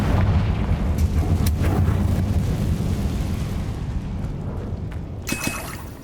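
A Confringo spell explosion in Hogwarts Legacy booms loudly with a deep, rumbling blast that slowly decays, followed by a brief sharp crackle and burst near the end.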